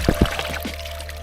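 Water from an outdoor fountain, not meant for drinking, pours briefly in a couple of quick splashes, then fades to a faint trickle.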